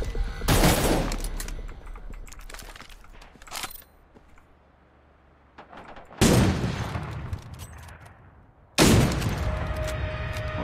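Bursts of gunfire ring out in the video game Cyber Hunter: a loud volley, then a quieter stretch, then two sharp bursts of shots, each trailing off into echo.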